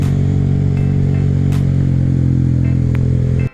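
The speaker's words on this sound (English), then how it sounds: "Man, the Grom could go so fast down this hill if I wanted to. Just touch the gas a little," Honda Grom motorcycle engine revving and accelerating on a hill, a loud, steady, raspy drone held close to the mic for several seconds before cutting off abruptly at the end.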